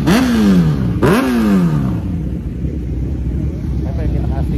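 A motorcycle engine revs hard twice in quick succession close by, each rev rising sharply then falling away, before settling into a lower rumbling idle under background noise.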